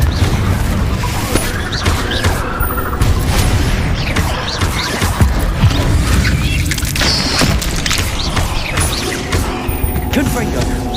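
Confringo blasting spells explode repeatedly in the Hogwarts Legacy video game, a loud, dense stream of booms and crashes that runs for the whole stretch, with voices mixed into the combat noise.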